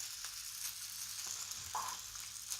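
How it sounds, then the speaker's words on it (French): Buckwheat burger mixture frying in olive oil in a pan, pressed inside a round cutter, giving a steady, faint sizzle throughout with a few small crackles and pops. "je vais déposer au milieu de cet emporte-pièce l'appareil de burger de sarrasin"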